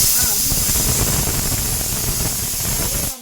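A pressure cooker in a home kitchen hisses out steam in a loud, steady jet that cuts off abruptly at the end, with a voice faintly underneath.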